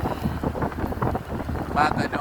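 A boat engine rumbles steadily while towing parasailers over open water, with wind buffeting the microphone and people talking over it throughout.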